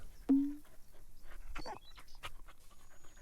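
A dog in the farming video game Farmers Dynasty pants rhythmically, with a short whimper near the start and soft breathy panting continuing close by.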